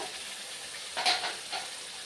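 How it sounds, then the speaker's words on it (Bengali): Fried onion with garlic and ginger paste sizzles in a hot pan, a steady close hiss with one brief stir in the middle. "আদা বাটা, এটা ভালো করে ভেজে নেব 2 মিনিট।"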